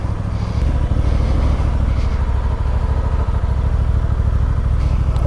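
A Honda Transalp 750 motorcycle, a 2024 A2 model, runs steadily at idle nearby, its engine note loud and continuous with a low rumble throughout, no voices over it.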